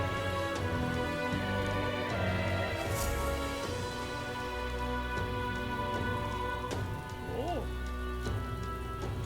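Steady rain in the video game Metaphor: ReFantazio, a constant patter over a looping game music bed, with a few soft clicks and tones on top.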